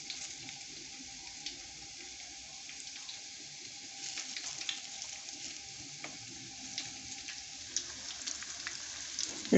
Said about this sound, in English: Remember to drop the beans cake close to the cooking oil to minimize splashing.